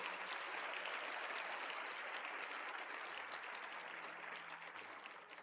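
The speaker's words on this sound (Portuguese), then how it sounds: "dá um aplauso ao Senhor." A congregation in church gives a sustained round of applause, a soft and distant-sounding roar of many hands that stays even and thins slightly at the close, with a faint low tone beneath.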